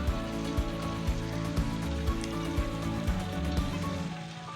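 Previously fried potatoes sizzle steadily as they are sautéed with Bhola fish curry in a hot pan. A dense crackle runs throughout, broken by regular soft thumps of stirring.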